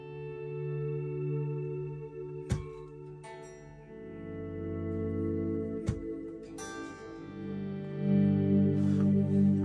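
Sustained electric guitar swells washed through a Nimbus big reverb pedal, with layered tones and long decaying tails, plus a few sharp transient clicks, alone and fairly quiet throughout.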